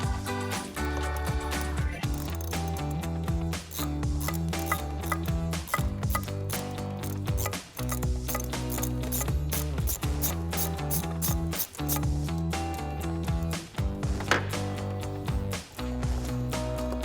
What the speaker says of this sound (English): loosen our clamp, and we can do that with an 8mm socket